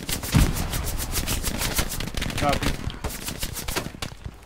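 MG42 machine guns in Hell Let Loose chatter in rapid, continuous bursts close by, with a brief spoken reply over the steady rattle of fire.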